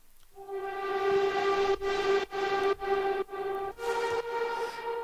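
A sustained, reedy synth lead holds a steady pitch, rich in overtones, with rhythmic gated dips chopping it into pulses before the pitch shifts slightly near the end.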